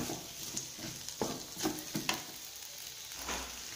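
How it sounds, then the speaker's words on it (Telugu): Cluster beans and moong dal fry in a pan, giving a soft sizzle broken by a few scraping stirs at uneven intervals. The sound is close and low, with no talking. "ఒక 2 మినిట్స్ ఫ్రై చేసుకోవాలి."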